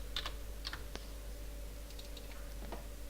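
Typing on a computer keyboard, a few soft scattered key clicks, faint and close, over a low steady hum.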